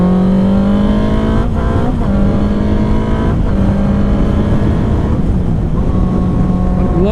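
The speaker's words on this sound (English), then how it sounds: "I'm loving the way this bike sounds" A motorcycle engine revs and drones loudly while riding, pitch rising and falling with gear changes and throttle, close and steady throughout.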